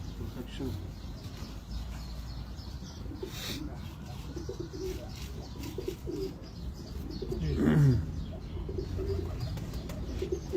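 Pigeons at a Lahore bird market coo softly in low, rolling bursts against a busy background, with people talking nearby and a brief louder swell near the end.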